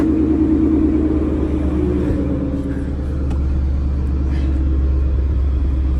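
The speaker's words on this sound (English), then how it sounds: "That is one hell of a cold start." A loud, steady 2019 Ford Mustang GT engine rumble at idle right after a cold start, through a Corsa Extreme exhaust, deep and continuous with a brief dip midway.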